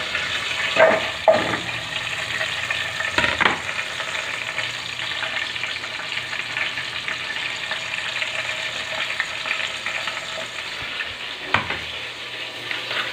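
Onion and garlic frying in a pan, a continuous hissing sizzle with a few sharp scrapes of stirring near the start and end, close and alone without talk.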